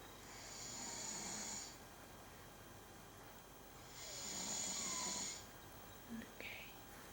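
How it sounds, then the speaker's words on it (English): Two people asleep side by side snore in long, breathy rasps, two clear drawn-out snores separated by quieter breathing, with a small snort near the end, faint and close in a quiet room. "If you hear it closely, you can hear them snoring."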